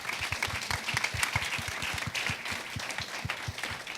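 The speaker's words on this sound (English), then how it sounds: "Round of applause for our panelists." An audience applauds panelists at the close of a business discussion on customer insights, a steady wash of many hands clapping at close-to-moderate distance, continuous and fairly loud with no talking over it.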